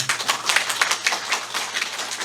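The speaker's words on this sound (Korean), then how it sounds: "오늘 이 행사를 계속하게 하신 하나님께 영광의 박수를 부탁을 드립니다" Audience applause at a memorial ceremony, a steady dense patter of many hands clapping at moderate volume throughout, with no voices over it.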